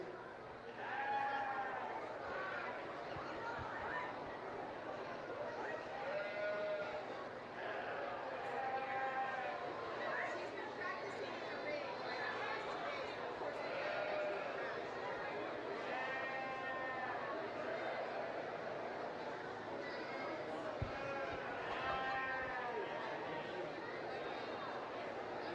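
Sheep bleat repeatedly at a county fair livestock arena, several wavering calls overlapping from near and farther off, with a low crowd murmur and occasional voices underneath.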